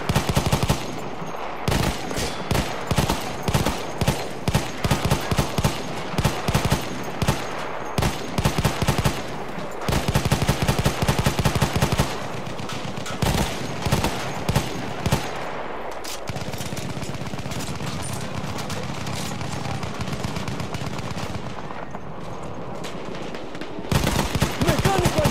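Rapid machine-gun bursts and gunfire ring out in a Battlefield 1 match on the Monte Grappa map, loud and dense with repeated volleys, brief pauses and a steady battle din underneath.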